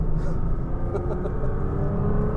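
A 2000-horsepower Nissan GT-R driving along, a heavy low engine rumble heard from inside the car, loud and steady over the short stretch.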